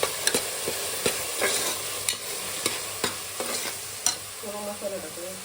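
A paste of ginger, garlic, green chili and coriander sizzles steadily in a hot pan while a spoon scrapes and taps against the metal in irregular strokes as it is stirred.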